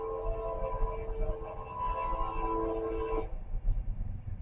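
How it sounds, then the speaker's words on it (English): A passing train rumbles steadily near a country kitchen, with a sustained tonal horn-like hum over a low rolling roar that cuts off abruptly, leaving lower rumble behind; no talk during it. "Here comes the train."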